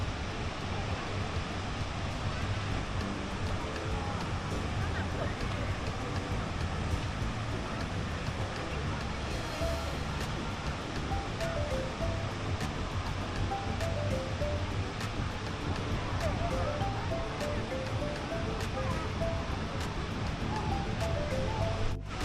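A man-made waterfall in a city park in Kunming, Yunnan, China, giving a constant, even rush of falling water with no pauses or breaks.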